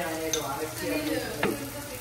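Onions sizzle in a pan as chili powder goes in for gongura mutton, a dense close frying hiss with a few stirring scrapes and no voices.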